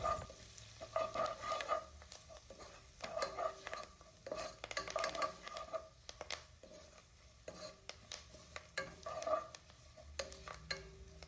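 Dried sprats fry in hot oil with chili pieces, pepper powder and turmeric while a spoon stirs through them, giving a soft continuous sizzle broken by repeated scraping strokes against the pan, close and fairly quiet.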